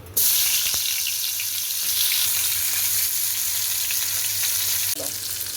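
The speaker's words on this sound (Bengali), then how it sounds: "এখন ওই তেলেই পটলগুলো ভেজে নিব" Pointed gourd pieces fry in hot oil in a wok, giving a steady, loud, close sizzle that holds for several seconds, with a brief clatter near the start and a stir near the end.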